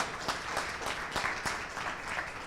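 An audience applauds at a talk on winning and losing the war on global poverty, with a brief burst of steady, mid-distance clapping that fills the whole moment.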